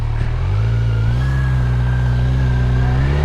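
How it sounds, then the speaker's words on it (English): A Kawasaki Z900 motorcycle engine revs up steadily, its pitch rising as it accelerates, with a constant road rumble underneath and no talking. "only with the bike noise and the road noise"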